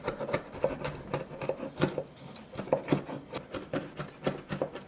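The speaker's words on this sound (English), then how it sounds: "I'm going to finally chop up all the ingredients for the sauce" Knife rhythmically mincing garlic and shallot on a wooden cutting board for a sauce, steady close taps and rasping strokes repeating at a quick even pace.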